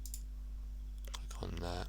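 Computer mouse clicks while working in Roblox Studio, a few sharp dry taps near the mic over a steady low hum, with a short burst of talk near the end.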